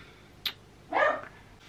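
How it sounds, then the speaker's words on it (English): A dog gives a short yip followed by a fuller bark about half a second later, two brief calls heard fairly close in a quiet room. "There's dog barking."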